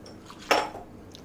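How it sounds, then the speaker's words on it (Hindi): Sago pearls being rinsed in water in a bowl, heard as a single short wet clatter and slosh against the bowl, close and moderately loud, with quiet room tone before and after. "साबूदाना लेंगे, में पानी ऐड करेंगे और साबूदाने को 3 से 4 बार धोएंगे"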